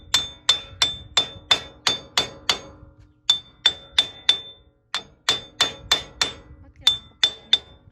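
Steady hammer blows tap on a wheel hub bearing of a 2010 Toyota Tacoma 4x4 during replacement, sharp metallic strikes in quick regular bursts of about six, with short pauses between groups, close and loud.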